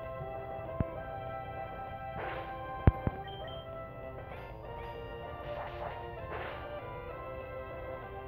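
Head smash attack in Pokémon Sapphire lands as one sharp, loud smack over steady in-game music, with a couple of smaller clicks nearby.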